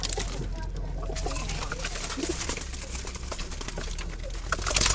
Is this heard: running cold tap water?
no